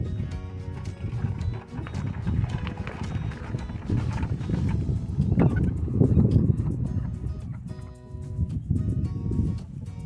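Chickens on a rabbit farm cluck and squawk continuously amid busy farmyard noise, near and fairly loud, with scattered knocks and clatter throughout.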